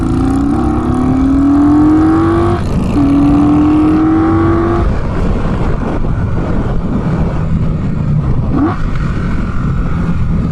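An Indian Scout Bobber motorcycle engine revs loudly and up close in two rising climbs, then gives way to a steady roar of riding and wind noise.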